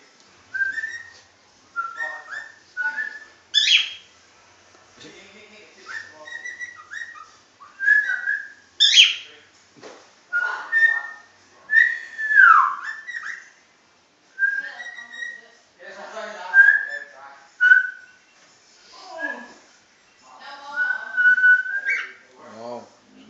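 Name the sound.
pet bird whistling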